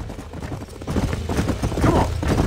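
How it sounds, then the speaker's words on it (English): Horses' hooves clip-clopping in the Red Dead Redemption video game, a steady close trotting rhythm that grows a little louder midway, with no voices. "These are fine horses."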